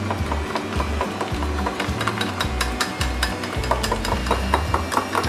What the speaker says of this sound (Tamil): இது மாதிரி நல்லா மிக்ஸ் பண்ணிக்கோங்க.